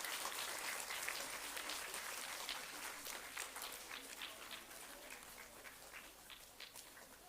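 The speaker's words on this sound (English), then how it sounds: "Can we have a big round of applause for grade 5 Urans?" Clapping from an audience at a school scholar badge ceremony for fifth-grade pupils, a soft, continuous patter that sounds somewhat distant and fades slightly toward the end.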